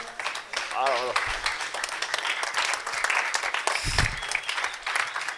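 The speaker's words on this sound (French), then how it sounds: "pendant qu'ils saluent le public et que nous acclamons très fort" An audience claps and cheers for the cast taking their bows after a theatre play, a dense sustained wave of applause with voices talking over it.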